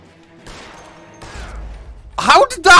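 Gunshots ring out in the video game L.A. Noire during an LAPD foot chase, a couple of sharp loud cracks arriving near the end after quieter game sounds and movement.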